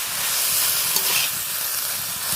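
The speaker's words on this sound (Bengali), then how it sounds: "ঢ্যাঁড়সটাকে দিয়ে ভালো করে একটু কষিয়ে নিচ্ছি" Okra being stir-fried in a pan for a Bengali home-style okra dish gives a steady, close, continuous sizzle with faint stirring scrapes, and no talking.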